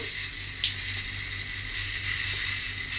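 Tap water runs steadily from a faucet in a small apartment in Tbilisi while hands scrub with a bar of soap, a continuous close hiss with a brief splash partway through.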